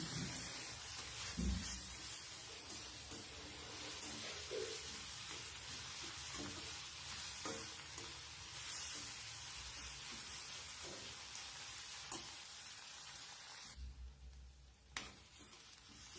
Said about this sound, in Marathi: आणि टमाटा पण आपल्याला तेलावर छान परतून घ्यायचा आहे बघा अशा पद्धतीने.